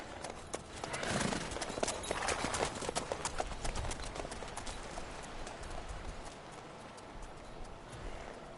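Horses trotting in the video game Witcher 3, with hooves clip-clopping in a continuous uneven rhythm at moderate distance, mixed with faint ambient game sound and no speech.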